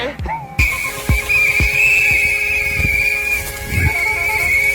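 Shrill whistles blow continuously amid chaotic game noise while a pet dragon is on the loose, a loud sustained tone layered with repeated thumping hoof-like clops and other clatter.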